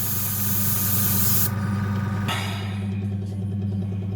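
A spray paint nozzle hissing continuously during restoration of a 1965 Matchbox No. 30c eight-wheel crane truck, the spray cutting out partway through while a low steady hum continues underneath.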